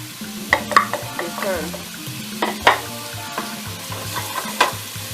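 Meatballs shallow frying in a saucepan of oil, a close, continuous sizzle punctuated by clinks and scrapes as they are stirred and moved about the pan.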